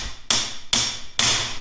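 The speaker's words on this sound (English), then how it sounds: "Bring out my old friend, Mr. Clawhammer here." Three sharp, loud claw hammer strikes on metal while working on a Jeep ring out close and evenly spaced, each with a brief ringing decay.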